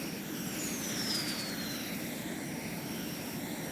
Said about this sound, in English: Push the throttle. Slide the wheel to fly. The plane took off successfully.